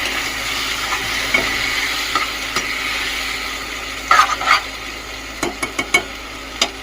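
Gongura dry prawn curry with coriander being stirred in a pan, heard as a steady low sizzle with scattered scraping and knocking strokes that cluster toward the end, nearby and moderately loud, without speech.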